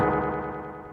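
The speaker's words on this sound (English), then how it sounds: "So that's a delay effect." A short burst of delay effect built with the Web Audio API: a bright, distorted synth-like tone repeats in quick echoes that gradually fade over about a second, with no talking.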